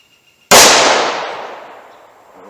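A single sharp, loud gunshot from a Taurus 605 snub-nose revolver firing a .357 Magnum round, with a long ringing decay of echo trailing off afterward.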